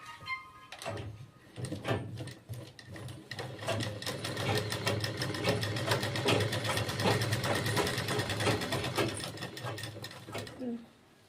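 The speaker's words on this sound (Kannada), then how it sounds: "6 ಇಂಚಿಗೆ ನಾವು ಸ್ಟಿಚ್ ಮಾಡ್ಕೋಬೇಕು." A sewing machine stitching box-pleat lehenga fabric runs in one sustained burst of fast, even, rattling stitches that starts after a brief pause and stops near the end, with some talking at times.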